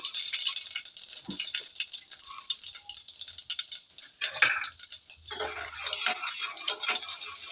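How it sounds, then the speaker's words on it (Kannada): Mustard seeds and chana dal added to hot oil in a pan for beetroot palya: close, light rattling and patter of small grains hitting metal, with faint crackle and stirring, continuous throughout. "ಈಗ ಎಣ್ಣೆ ಕಾದಿದೆ ಇದಕ್ಕೆ ಸಾಸಿವೆ ಹಾಕ್ತಾಯಿದ್ದೀನಿ ಕಡಲೆಬೇಳೆ ಹಾಕ್ತಾ ಇದ್ದೀನಿ"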